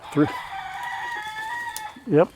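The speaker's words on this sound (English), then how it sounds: "Three-way crow off." Roosters crowing in a three-way crowing contest: two short, strident crows open and close the clip, with a long sustained crow held between them, all close and loud.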